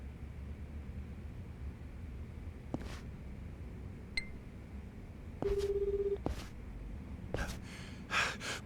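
Telephone dialing in Like a Dragon Gaiden: a few scattered beeps and one sustained tone of roughly a second, set among gasps and breathy sighs over a low hum.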